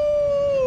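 The Mad Dog card in the Hearthstone video game gives a brief, clear, steady howl that slides slightly downward in pitch, loud and alone.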